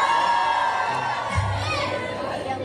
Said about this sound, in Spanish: Delpo le grita la gente, mirá.